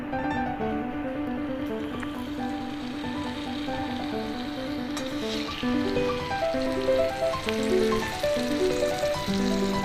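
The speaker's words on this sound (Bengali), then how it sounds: "দেখুন তেলটা একটু হালকা গরম হয়ে এসেছে। এবার আমি মাছের মাথাগুলো ছেড়ে দিচ্ছি।" Hilsa fish heads frying in lightly heated oil for a taro-leaf dish, a soft continuous sizzle close by, with a faint tonal hum running underneath and no voices.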